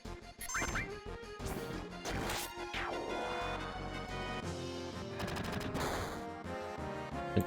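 Gunfire in Final Fantasy VII lands as a rapid string of loud, sharp impacts and cracks mixed with crashing hits and game music, dense and busy throughout with no voices.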